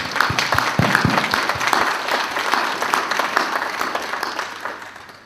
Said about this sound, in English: I think we ought to give a round of applause for Emma